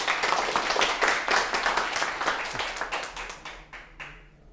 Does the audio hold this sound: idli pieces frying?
no